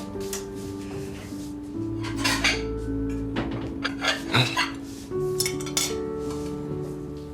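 Light clinks and clatter of dishes and cutlery being handled, a few sharper taps standing out over a steady low background hum.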